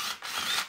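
Screw being backed out of a router power feeder with a driver, a short close whirring ratchet-like mechanical buzz, no talk.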